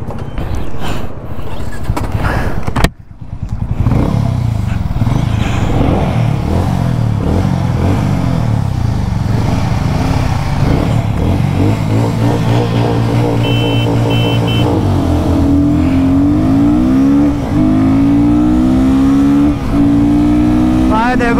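A Royal Enfield Guerrilla 450 and a Hero Mavrick 440 run a drag race, with loud engine roar climbing through repeated revs and gear changes, steady and close for the whole stretch.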